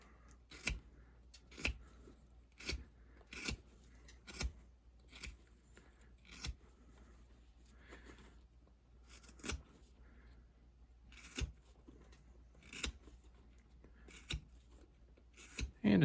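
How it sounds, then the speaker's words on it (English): Knife carving a basswood block for a simple Halloween figure, shaving strokes like peeling a potato: a series of short, sharp scraping cuts at an irregular rhythm, close and fairly quiet, with no talking. "I'm just going to come in here with this knife, just like you're peeling a potato"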